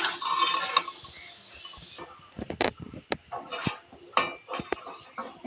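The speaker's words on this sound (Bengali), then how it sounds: "এই যে এবার বড়াটা হয়ে এসছে, আমি এবার লাবিয়ে নেব।" Fried taro-leaf fritters lifted from a pan of oil with a metal utensil: scraping and clinking against the pan, a soft sizzle early on, then scattered sharp taps and scrapes, close and moderately loud.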